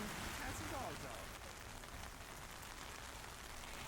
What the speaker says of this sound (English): It's raining in southeast London.